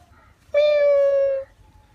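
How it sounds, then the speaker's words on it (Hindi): A cat gives a single clear, drawn-out meow lasting about a second, close and loud against a quiet indoor background. "बिल्ली है, बिल्ली"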